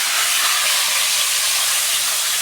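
Fish frying in hot cooking oil on a stove, a loud continuous close sizzling hiss that holds steady throughout.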